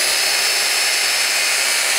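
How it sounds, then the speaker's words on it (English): A power drill runs steadily as a bit bores straight into wood for a jewelry holder, a loud continuous high whine lasting about two seconds with no talk. "I'm going to drill in straight."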